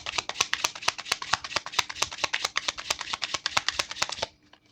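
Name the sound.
shuffling tarot cards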